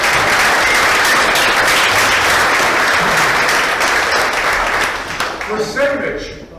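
Sustained audience applause at an art exhibition awards ceremony, loud dense clapping from a crowd lasting several seconds before tapering off into a few scattered claps.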